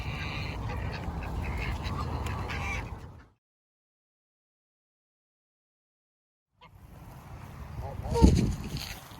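Geese at Woodland Park honk outdoors among rough background noise, with a sharp honk near the end and a stretch of silence in the middle.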